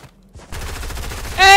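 Rapid automatic gunfire in the video game Fortnite starts after a quiet half second as a steady, loud string of evenly spaced shots, then rises to a sharper burst at the end.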